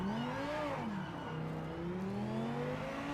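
A race car in Project Motor Racing launches off the line on cold tyres, its engine note climbing through the revs, dropping and rising again in a steady, loud, continuous drone.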